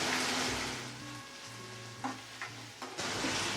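Tomato masala sizzling and frying in oil in a pan for vegetable pulao, a steady close crackle with a few spoon scrapes and stirring knocks, no voices.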